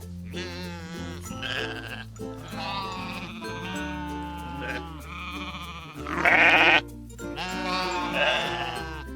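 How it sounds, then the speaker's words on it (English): Sheep bleat in a series of loud, wavering baas, several calls one after another with short pauses between them, close and clear. "sheep baa. Listen to those gentle baas."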